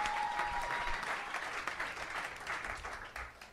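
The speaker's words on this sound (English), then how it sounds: "The crowd roars." Audience applause and cheering at a live comedy roast show as a comedian is introduced, a dense, steady wash of clapping that swells and holds throughout, with no talk over it.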